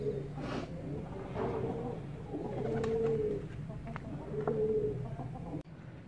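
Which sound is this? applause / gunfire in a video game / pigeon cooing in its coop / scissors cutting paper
pigeon cooing in its coop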